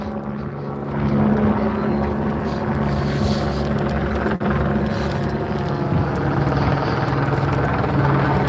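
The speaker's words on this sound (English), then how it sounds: "That chopper is at fucking 400 feet." A helicopter flies low overhead, around 400 feet, its loud steady rotor thrum and engine drone filling the air without letup.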